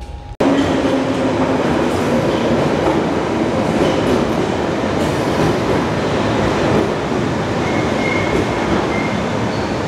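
A London Underground Piccadilly line train runs at speed, a loud, steady roar of wheels and carriage rumble with faint clattering and brief squeals, heard from inside.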